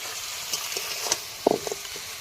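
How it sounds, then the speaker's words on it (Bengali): Crabs go into a sizzling, oil-loosened spicy spice paste in a pan, giving a brief burst of hissing and spattering at close range after a short quiet stretch with light stirring. "কাঁকড়ার মশলা কষানো এই যে কমপ্লিট, তেলও ছেড়ে দিয়েছে, এবার দিয়ে দেবো কাঁকড়াগুলো"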